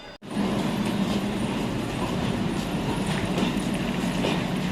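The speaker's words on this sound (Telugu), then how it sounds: "ట్రైన్ అయితే ఇప్పుడు కాచిగూడ స్టేషన్ నుంచి అయితే బయలుదేరిపోయింది" An express train pulls out of Kacheguda railway station, its carriages producing a dense, continuous rumble with rhythmic clatter from the wheels, loud and close throughout.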